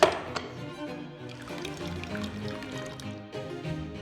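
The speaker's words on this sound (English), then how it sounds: "And the next thing is to juice our lemons." Lemons being juiced for curdling milk in a historical cookery kitchen, a continuous trickle and pour of liquid with small drips, steady and close, with no speech.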